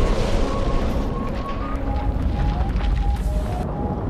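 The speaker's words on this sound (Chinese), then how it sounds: "轰的一声，雪崩开始。" A film explosion triggers an avalanche on a snowy mountain peak, heard as a dense, loud, sustained rumbling roar that fills the whole clip, with a faint tonal element drifting above it.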